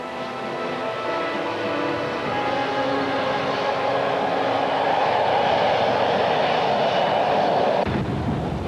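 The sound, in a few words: turbine engine whine of a Russian T-80 tank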